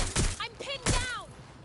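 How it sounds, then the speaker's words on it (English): Gunshots in the Watch Dogs Legion game, two loud close bursts of fire followed by sweeping tonal ricochet-like whines, with a voice shouting over the noise. "Shots fired!"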